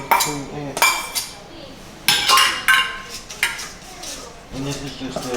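A spoon stirs a salt cod fritter mixture of pepper, onion, sofrito, garlic and vinegar in a bowl, making sharp clinks and scrapes that come in bursts with quiet gaps between them.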